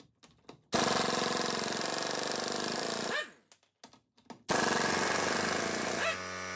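An air impact wrench on its lowest torque setting, running off a small air compressor at about 90 PSI, hammers lug nuts off a Jeep Grand Cherokee in two loud, sustained bursts. Short clanks and pauses fall between the bursts.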